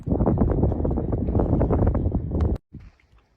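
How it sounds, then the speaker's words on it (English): Strong wind buffets the microphone in Monument Valley, a loud continuous rumble that cuts off abruptly near the end, leaving a short faint gust. "I'm just making sure I can be heard over this wind"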